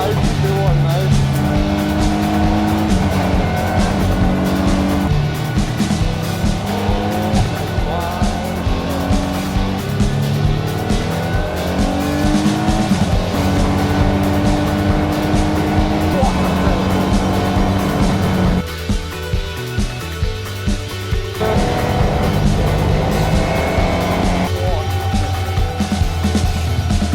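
LMP1 prototype race cars, Ginetta and Bentley Speed 8 among them, lap a circuit being prepped for Le Mans, engines roaring loud and continuous with tonal revving swells and a brief dip, while voices talk over the noise.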